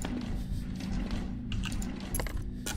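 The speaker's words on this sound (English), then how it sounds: "Keys." Metallic keys jangle in a hospital setting of the horror video game The Curse of Blackwater, a rattling clatter over a steady low hum, with brighter clinks near the end.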